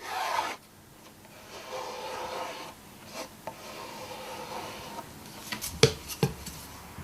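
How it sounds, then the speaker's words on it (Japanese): Paste lacquer (nori-urushi) being rubbed by hand into hemp cloth laid over a wooden bowl made of glued boards: soft, close rasping strokes in uneven rhythm, with a few sharper scraping bursts near the end and no talking. "麻布をかぶせ、上からものり漆をすり込んでいきます。"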